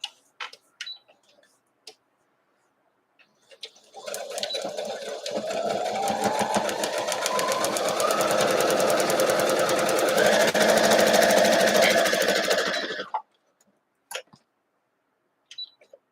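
A sewing machine stitches a seam on an Imperial T quilt block for about nine seconds, a steady loud mechanical whir with a rapid ticking needle rhythm, starting and stopping abruptly with faint handling clicks before and after, no talk.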